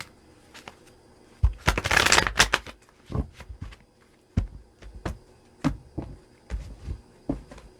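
Tarot cards being shuffled up close: a loud riffling burst early on, followed by scattered soft taps and card flicks at an irregular pace.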